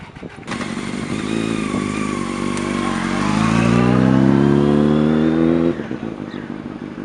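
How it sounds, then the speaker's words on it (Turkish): A Honda CBR 250 motorcycle engine revs up loudly and close by, climbing in pitch over several seconds before dropping back to idle. "başlangıç motor olarak seçtiğimiz motor Honda'nın CBR 250 modeli."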